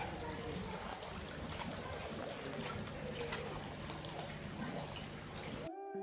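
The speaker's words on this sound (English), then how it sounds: "here we're aerating the system and moving water with 5 watts instead of running the pump" Water trickles steadily in a garden system moved by a 5-watt aerator instead of a pump, a continuous splashing flow that stops abruptly near the end.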